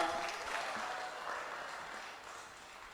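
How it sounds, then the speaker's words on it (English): Audience at a Rastafari conference applauding to welcome a speaker, a soft, continuous spread of clapping that stays faint and distant and slowly tapers, with no voices over it. "Please, let's welcome her with applause."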